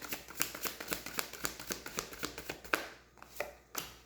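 Tarot cards shuffled by hand in a repeated series of quick, crisp riffling bursts, close and fairly quiet, with no talk over them.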